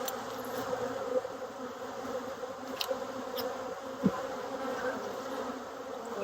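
Honeybees buzz steadily and close around an open hive frame in a Tennessee apiary in October, a dense continuous drone with a few louder individual bees passing near, and no talking.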